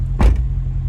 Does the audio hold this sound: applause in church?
no